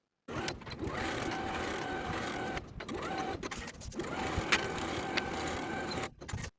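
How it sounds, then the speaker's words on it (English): A sewing machine runs in two long stitching bursts, pausing briefly between them and stopping near the end, as it sews both seams of a tank top with a 3/8 inch allowance and backstitches to secure them. "Sew both seams from the notch, backstitching to secure with a 3/8 inch seam allowance down to the bottom of the garment"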